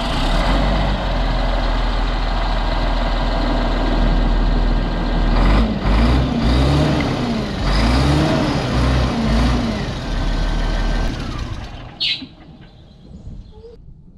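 A farm vehicle's engine, its starter just repaired, runs loud and steady, then revs in several rising and falling surges before cutting off abruptly near the end, leaving quiet outdoor background.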